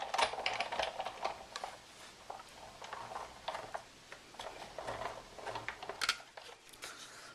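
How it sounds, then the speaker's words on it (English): Paper with a wood grain embossing folder is fed through a hand-cranked Big Shot embossing machine, giving a steady run of close, dry clicking and ratcheting ticks for several seconds with no voices. "then I will just run it through my Big Shot"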